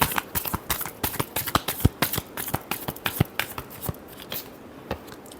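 Tarot cards are shuffled by hand in a rapid, continuous flutter of crisp riffling snaps, close and steady throughout with no talking.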